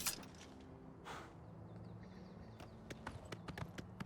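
Horse hooves clip-clopping in the Elder Scrolls IV: Oblivion Remastered video game, a run of sharp, fairly quiet hoof taps picking up pace toward the end over a low steady game backdrop.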